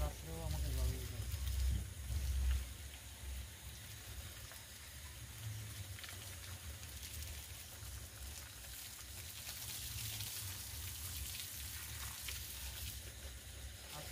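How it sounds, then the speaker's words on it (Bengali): Water splashes and patters steadily onto garden plants, with ridge gourd vines among them, at night, a continuous rain-like hiss of moderate loudness with a heavier gush at the start. "সমস্ত গাছগুলো ঝিঙে যাচ্ছে আস্তে, তো সেই কারণে এত রাত্রেও আমাকে জল দিতে হবে।"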